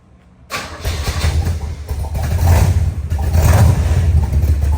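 After a moment of quiet, a 1964 Chevrolet Corvette's 327 engine cold-starts, cranking and catching, then settles into a loud, rumbling idle with a few throaty revs close by through side exhaust.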